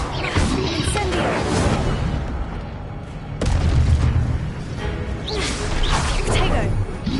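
An Incendio fire spell cast in Hogwarts Legacy, whooshing bursts and booming impacts rising over steady game ambience, with a sharp loud burst midway and a voice speaking throughout.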